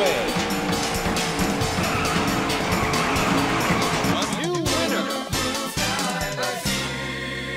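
Race cars in the Daytona USA video game roar continuously with rising engine pitch and tire squeals, loud and dense over busy game sound and music, which drops out abruptly near the end.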